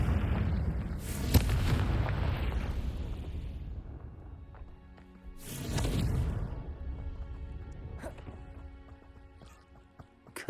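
A Confringo blasting curse explodes in Hogwarts Legacy, two loud booming blasts rolling out around one second and again near six seconds, each trailing into a rumbling decay, with sharp crackles later on.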